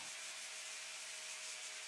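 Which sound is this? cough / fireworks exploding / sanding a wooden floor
sanding a wooden floor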